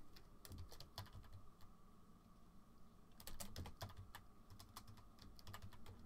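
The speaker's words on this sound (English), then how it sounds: "Let me type something here." Fingers clatter on a computer keyboard in quick, irregular bursts with a short pause midway. The typing is close but fairly soft, and no one speaks.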